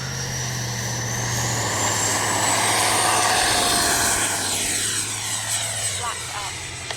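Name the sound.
RC FlyFans MiG-25 model jet taking off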